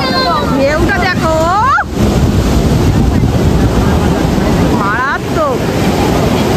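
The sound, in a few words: ocean waves breaking on the beach at Puri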